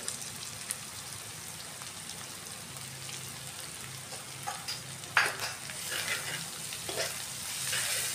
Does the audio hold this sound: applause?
no